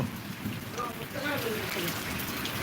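Steady rain falls outdoors, a continuous soft patter at moderate distance, with faint voices in the background.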